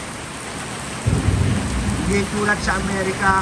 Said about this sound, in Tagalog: Ating yung maririnig ang sound na tumatama sa mga yero